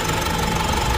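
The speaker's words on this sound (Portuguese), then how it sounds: "por isso que o barulho do motor dela tá diferente" A Mitsubishi L200 Triton 3.2 engine runs during injector learning, a loud, steady mechanical hum with a faint knocking rhythm, heard up close and alone.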